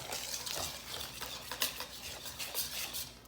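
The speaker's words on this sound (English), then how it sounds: "we're going to get a spatula and not use the whisk anymore because we don't want our dough to get stuck in our whisk" A spatula stirs thickening dinner roll dough in a bowl, steady scraping and soft sticky slaps repeating in an uneven rhythm, close and fairly quiet, with no talking.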